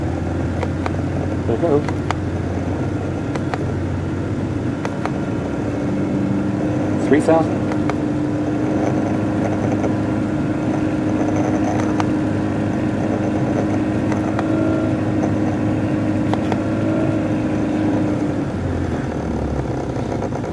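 A car engine fitted with a JayCar Silicon Chip electronic ignition idles and is revved up a little, a steady loud drone with rising pitch, while people talk nearby.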